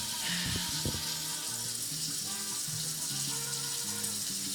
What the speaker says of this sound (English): The water is starting to come to a boil.